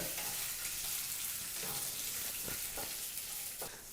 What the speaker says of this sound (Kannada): ಹಸಿಮೆಣಸಿನ್ಕಾಯಿ ಹಾಗೆ ಒಣಮೆಣಸಿನ್ಕಾಯಿನೂ ಸಹ ಎರಡು ನಿಮಿಷಗಳ ಕಾಲ ನೀಟಾಗಿ ಫ್ರೈ ಮಾಡಾಯಿತು